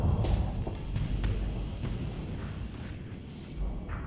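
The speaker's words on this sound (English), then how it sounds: "Huge amounts of missile fire going on over here." Missile fire and explosions in the space combat game Starsector, a series of deep rumbling booms and bursts rolling one after another at moderate volume.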